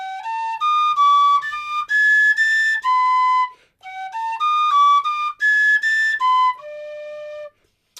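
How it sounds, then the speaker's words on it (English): Tin whistle plays a Bach bourrée alone, a bright, close, steady run of clear pitched notes in lively phrases with brief breaths between, ending on a held note. "so on this whistle, adding this finger tunes it much better."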